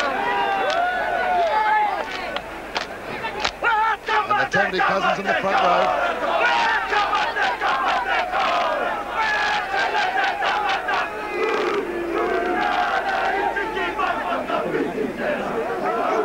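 The 1985 New Zealand rugby league team performs the traditional haka before a big stadium crowd, with rhythmic chanted shouts and sharp beats running steadily under crowd noise while a commentator talks.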